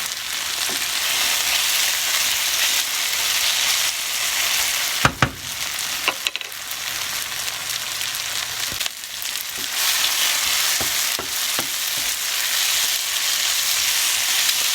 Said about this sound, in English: The onions look pretty good, but I'll cook them a little bit, a couple more minutes.